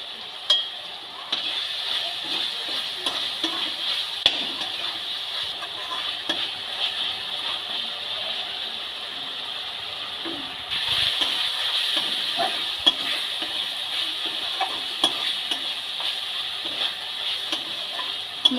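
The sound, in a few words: stir-frying spice masala in oil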